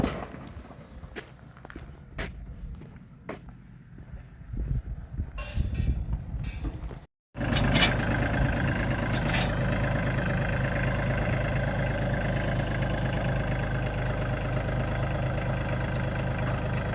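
A compact tractor's engine starts with a short cutout, then runs steadily at close range, a continuous low mechanical drone with a few footstep-like knocks in the quieter stretch before it.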